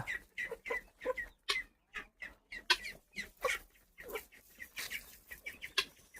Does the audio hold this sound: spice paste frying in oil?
no